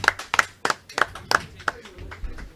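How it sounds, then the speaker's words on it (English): A few people clap for a guest at a sports talk show. Sparse, distinct individual claps fall in a loose rhythm, fairly quiet, thinning out toward the end. "Round of applause for Jim, ladies and gentlemen."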